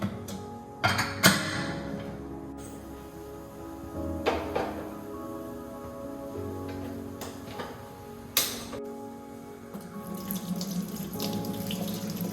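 Tap water runs into a kitchen sink while rice is washed, a steady splashing stream broken by several sharp clinks and knocks of a vessel, with no talk.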